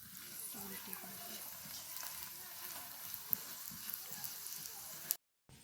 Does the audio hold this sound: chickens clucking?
no